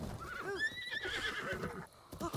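A horse in Zelda: Breath of the Wild lets out a long, wavering whinny up close, with hoof clip-clops beneath it and a second short neigh near the end.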